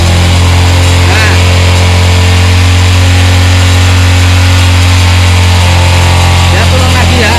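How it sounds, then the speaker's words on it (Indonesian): A Suzuki Supra 125 carburetor motorcycle engine revs hard to its highest RPM and holds there, a loud, steady, close drone with a strong low hum and busy upper noise, while a person speaks over it. "Kita tarik RPM yang tertinggi."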